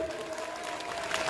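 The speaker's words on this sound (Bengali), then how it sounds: "সবাই জোরে হাততালি দিই" Audience clapping at a Christmas celebration held by a Christian forum in Basirhat, a brief steady burst of applause from a gathered crowd.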